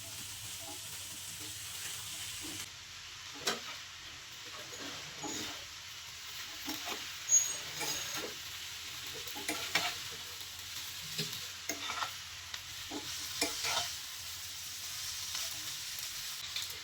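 Boiled chow mein noodles being stir-fried with soy sauce and chili sauce in a pan: quiet, steady sizzling with irregular scraping and stirring knocks, no talking.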